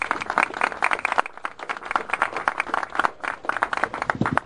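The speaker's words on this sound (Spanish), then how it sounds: "pido un aplauso bien fuerte para nuestro gran líder" Dense, steady applause from a room of lawyers at a breakfast event honoring Julián Palacín, with many overlapping hand claps sustained at moderate loudness and no speech.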